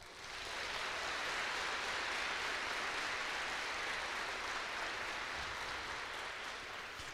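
Steady, dense applause from a church congregation during a sermon, broad and sustained for several seconds, with no talking over it.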